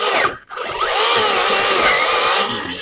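An AEG 12-inch 18-volt cordless electric chainsaw cuts through a wet log, loud and close, with a steady whining buzz that briefly drops out near the start before resuming.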